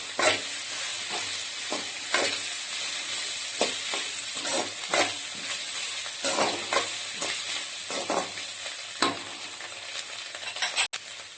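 Pre-fried chicken being stirred into a pan for homemade chicken fried rice, a constant bright sizzle with repeated scraping and clinking strokes of a spatula against the pan, close and fairly loud, no talking.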